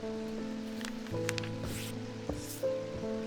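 Rain in the occult shop sim Strange Antiquities, a steady soft patter under looping ambient game music, fairly faint and continuous.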